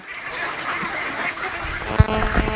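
Ducks quack near and in chorus at a large duck farm, a steady overlapping racket with one louder quack near the end.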